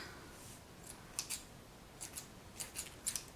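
Scissors cut string in several quick, close snips, some of them in pairs, spread over a few seconds in a quiet room.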